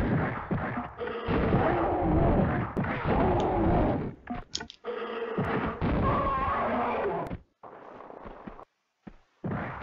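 Repeated grenade blasts and bursts of gunfire from the Ice Palace level of Tomb Raider 2, loud and continuous through most of the stretch, with dense rumbling explosions, a brief pause, then a few more bangs trailing off.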